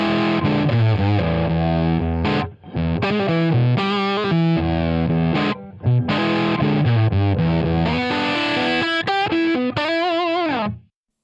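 Reamped distorted electric guitar sent through an Eleven Rack and played out of a speaker cabinet, a loud, thick riff of sustained chords and runs with brief gaps, ending in a sudden stop.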